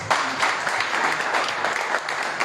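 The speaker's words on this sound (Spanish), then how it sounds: "Un aplauso al Señor por eso" A church congregation applauding together during a Spanish-language evangelical service, a brief burst of dense, loud clapping that holds steady throughout.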